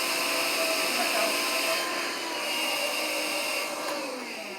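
A vacuum cleaner runs continuously with a loud, steady motor whine and hiss, its pitch wavering only slightly, with no other sounds.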